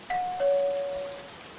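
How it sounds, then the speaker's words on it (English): A doorbell rings in the Roblox game Royale High, a clean two-tone chime, a short higher note followed by a longer lower note that rings out and fades, with no talking. "I'll ring a doorbell."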